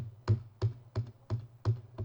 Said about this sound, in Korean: 키보드에 델리트 키를 눌러요.